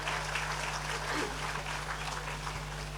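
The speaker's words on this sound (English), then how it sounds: "That needs applause." An audience at a panel talk about Irrfan's films applauds in a steady, moderate wash of clapping over a faint constant hum, heard from a distance.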